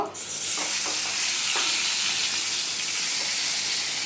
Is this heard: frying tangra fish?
yes